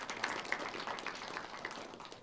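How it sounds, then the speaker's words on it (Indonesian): A studio audience at a televised regional government dialogue forum in Banten claps, a soft, dense wash of applause heard at a distance and fairly faint throughout. "Boleh tepuk tangan kembali?"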